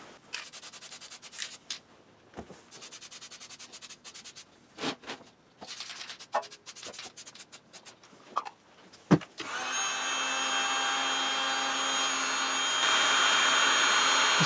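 Tool scraping and rubbing sounds come first on a Honda HSS1332 snowblower chute being painted. A loud, steady hot air blower then starts and keeps roaring without a break to the end.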